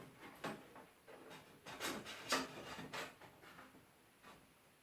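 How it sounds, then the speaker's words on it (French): Hard drive slid into a metal computer case, heard as several short scraping and rubbing bursts with soft knocks, fairly quiet and close. "Insérez-le dans le boîtier de manière à ce que les trous de fixation correspondent aux trous dans le boîtier"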